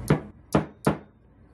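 A hammer gently taps a sawtooth hanger into the back of a picture plaque, three sharp close knocks spaced about a third of a second apart, heard alone.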